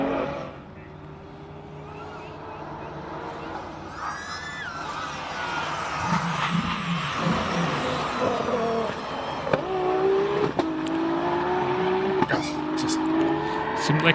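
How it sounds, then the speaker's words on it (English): A turbocharged race car climbs a hillclimb course, its engine note rising and shifting through gears with tyre squeal at moments, heard over steady crowd or commentary talk and ambient noise. "Turbo sounding angry."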